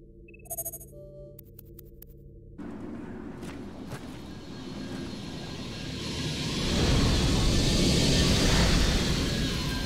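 A Super 35 aircraft comes in to land in the Vanquish game: a few short electronic beeps give way to a broad engine roar that swells steadily louder and closer, with no talking.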